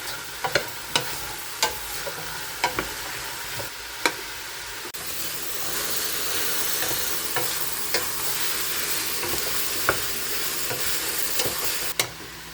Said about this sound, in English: saute these for about 10 minutes until the onion and the celery and everything starts to get soft